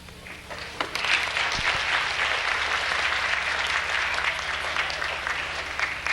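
Sustained audience applause for the Silver Lane singers fills a hall, dense and steady throughout, with a few louder claps standing out near the start.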